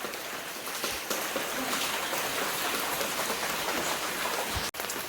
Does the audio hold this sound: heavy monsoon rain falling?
yes